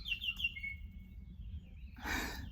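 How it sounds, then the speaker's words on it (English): Small birds chirp in a few quick, high tweets at the start, followed by a thin whistled note, with a brief rushing noise near the end over a low background rumble. "the birds are so cute."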